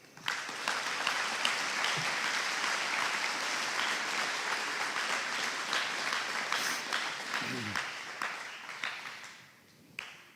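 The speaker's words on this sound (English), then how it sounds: "Please give a round of applause for the efforts of these people." A large audience applauds at a graduation ceremony, a broad steady wash of clapping lasting about nine seconds before fading out.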